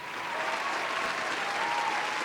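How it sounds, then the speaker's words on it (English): Comedy audience breaks into sustained applause, a dense even roar of clapping holding steady for a couple of seconds with no speech over it. "Applause break."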